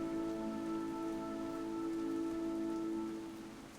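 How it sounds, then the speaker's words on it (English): Steady, even rain hiss in the video game King's Quest (2015) runs the whole way through, a dense wash of drops on a surface with a faint tonal hum beneath, easing slightly at the end. "Oh, it is actually raining"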